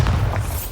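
A Bombarda exploding spell in Hogwarts Legacy lands as one short, deep boom with a thudding low-end punch that fades quickly.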